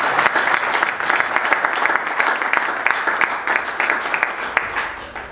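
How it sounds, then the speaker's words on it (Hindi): A church congregation claps and applauds steadily and loudly throughout, a dense sustained burst of many hands under a few raised voices. "जोर से तालियां दें यीशु मसीह के लिए"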